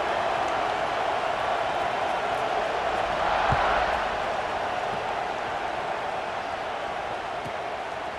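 A football stadium crowd waits before kickoff at an Oregon versus LSU college game, a dense, steady roar of many distant voices holding at an even level throughout, with no distinct cheers standing out.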